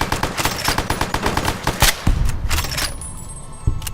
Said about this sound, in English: this gun is so much fun